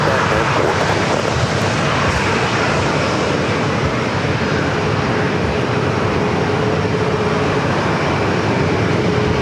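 A fixed-wing airliner takes off at San Diego airport, its loud, steady engine roar holding throughout under faint radio chatter.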